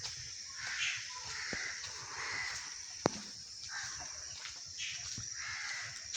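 Crows caw intermittently at a distance on an early village morning during light drizzle near sugarcane fields, their calls faint under a steady hiss of rain and breeze.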